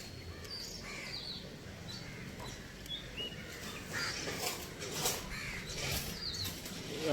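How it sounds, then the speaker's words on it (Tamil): A crow caws several times outdoors near a house, moderately close, over steady background ambience with faint chirping from other birds and insects. "ஒரு காக்கா"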